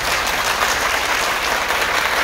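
A crowd gives a standing ovation for Colonel Madera, director of the Armed Forces Vocational School, at a vocational fair at the Autonomous University of Santo Domingo in Nagua: dense, steady clapping that holds for the whole stretch with no voices.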